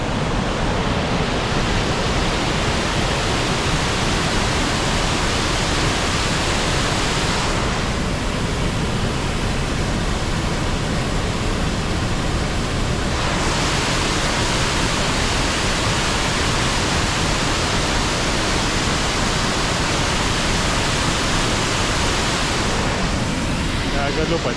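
Roaring waterfall in Wales, a loud, dense, unbroken rush of falling water with crashing spray, close by and steady throughout.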